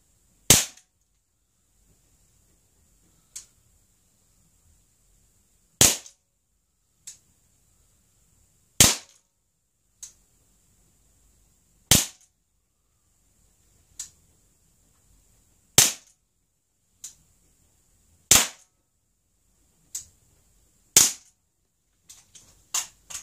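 An Umarex Beretta PX4 Storm air pistol loaded with RWS pellets fires about a dozen sharp, close cracks at irregular intervals of a few seconds. A faint hiss lingers between shots.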